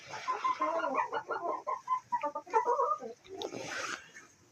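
Young hens in a chicken coop, their combs reddening as they near laying age, cluck and murmur in a steady overlapping chatter, close and moderately loud.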